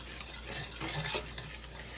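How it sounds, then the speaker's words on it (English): Southern white gravy stirred continuously in a frying pan over high heat with the grease boiling, a steady scraping swirl of utensil against pan over a constant low sizzle. "And you stir this the whole time, guys."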